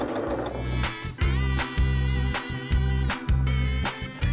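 A sewing machine stitching a bath towel runs in close, loud bursts, its motor whirring in rhythmic pulses with short pauses between runs.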